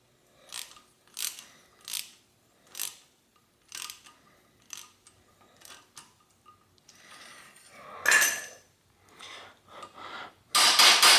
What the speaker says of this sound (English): Tap the pin in. Tighten the nut.